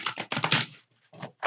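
Tarot cards are shuffled by hand close up: quick papery riffling bursts, a short pause, then another burst.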